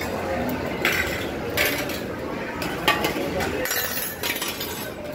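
Plates and cutlery clink and clatter in the busy langar hall of the Golden Temple, with sharp metallic chinks recurring over a dense crowd murmur and nearby talk.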